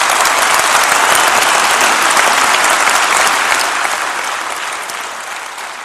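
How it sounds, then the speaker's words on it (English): A large conference audience at a keynote applauds a presenter, a dense and sustained burst of clapping close and loud that slowly tapers off over several seconds, with no clear speech. "Let's give him a clap."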